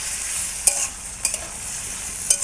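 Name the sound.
vegetables being stirred and fried in a pan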